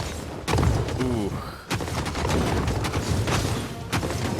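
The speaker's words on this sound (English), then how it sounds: "You can just hear the fire going on from the guns." Gunpowder artillery fires during a medieval siege battle in the Medieval Kingdoms 1212 game, with repeated booming shots and a dense rumble of battle noise, partly under spoken commentary.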